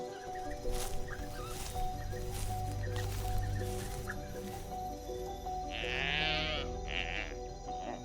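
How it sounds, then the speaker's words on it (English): A Walia ibex, a mountain goat of the Simien Mountains in Ethiopia, bleats a few times over a droning background with faint ambient noise. "That is the Walia ibex, a mountain goat endemic to Ethiopia, the masters of the dangerous cliffs."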